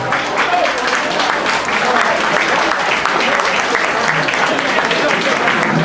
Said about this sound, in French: Merci beaucoup pour votre applaudissement.